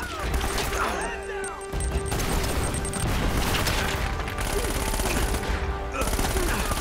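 Rapid automatic gunfire in the video game Uncharted: Drake's Fortune, dense bursts of shots with crashes and impacts over several seconds, loud and nearly continuous with brief pauses.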